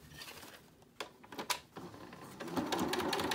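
A home sewing machine top stitches a homemade face mask, starting with scattered clicks and short bursts, then settling into a steady running hum near the end.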